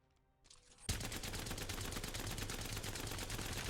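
Weapon fire in the Apex Legends video game: a brief spin-up, then a loud, continuous stream of rapid automatic shots at a steady fast rhythm that runs to the end.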